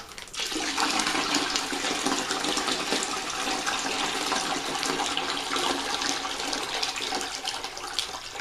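Water gushes steadily into a plastic pail toward the 5-gallon mark for a winemaking primary, a loud continuous splashing pour close by from start to finish.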